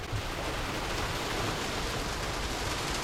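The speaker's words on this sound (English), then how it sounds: "That is a full-blown hailstorm" A full-blown hailstorm drums on the metal body and bonnet of a camper van under conversion, a dense, steady roar of impacts that stays loud and even throughout, heard from inside with no talking.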